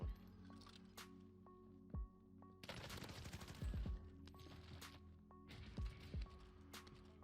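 Cooper Carbine fire in Call of Duty Warzone Pacific comes in quick bursts of sharp automatic shots, sounding fairly distant and soft, separated by short quiet gaps with faint game ambience and tones.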